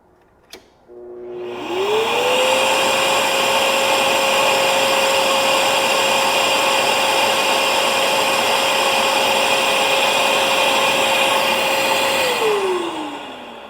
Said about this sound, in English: I have a Festool extractor and their cyclone here